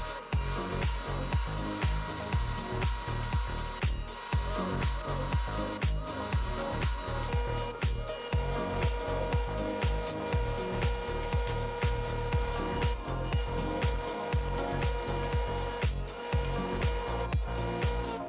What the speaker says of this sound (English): You could cut them by hand, on a bandsaw, or using a dado stack like I'm using here.